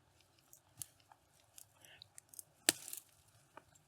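Hand cutters snip a buckthorn stem, giving faint scattered clicks and one sharp close snap partway through, with quiet rustling around it.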